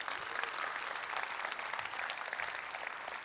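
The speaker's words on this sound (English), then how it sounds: "Give me a little clap if you've enjoyed the conference so far today." A conference audience applauds in a steady, dense wash of clapping, distant and fairly quiet, with no speech over it.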